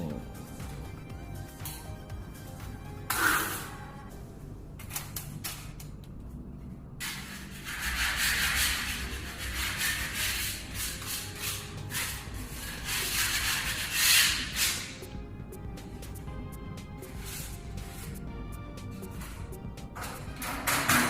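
A brush spreads glue across wallpaper in long, close scrubbing strokes, some bursts louder and longer than others, with brief pauses between passes and no speech.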